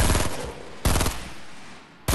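Three loud, sharp bursts of gunfire from a first-person shooter video game, each a sudden broadband crack followed by a decaying tail, spaced roughly a second apart with no talking.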